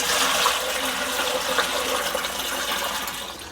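Sumac tea is poured through a sieve, making a steady, continuous gushing splash of liquid that stays fairly loud for the whole stretch with no talking.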